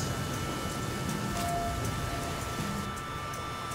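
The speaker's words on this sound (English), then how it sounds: "Like, no way it's still raining." Persistent rain in the video game The Flame in the Flood: an even, dense patter of drops with a low background rumble and faint sustained music tones, unbroken for several seconds with no talking.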